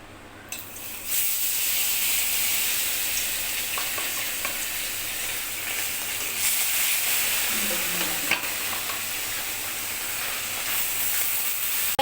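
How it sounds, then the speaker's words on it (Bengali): Hot oil in a wok hisses and sizzles steadily and loudly, ready for bata fish, with a brief sharper crackle midway and no talk. "এবার কড়াইয়ে তেল দিয়ে দিয়েছি, তেল গরম হয়ে গিয়েছে, এবার মাছগুলো দিয়ে দিব।"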